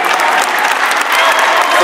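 Audience at a Chicago mayoral runoff debate breaking into loud, sustained applause and cheering, a dense crowd roar with no pauses.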